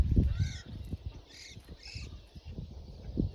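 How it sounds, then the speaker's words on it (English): Starlings nesting in a woodpecker-pecked tree give a few harsh, raspy calls in short bursts over rustling and footsteps outdoors in the woods. "the starlings are nesting in it"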